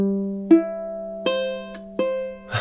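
A low-G ukulele is slowly fingerpicked, playing a Bach cello prelude, with single plucked notes ringing out one after another and sustaining over a held chord.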